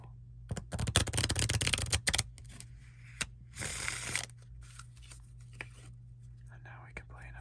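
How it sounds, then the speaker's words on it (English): Playing cards are shuffled up close in a quiet ASMR setting: a dense riffling burst lasts about a second and a half, followed by a softer bridge-like rustle and scattered taps, with soft whispering heard between them. "why don't we give it one more proper shuffle"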